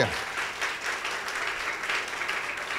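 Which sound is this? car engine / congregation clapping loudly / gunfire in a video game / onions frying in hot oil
congregation clapping loudly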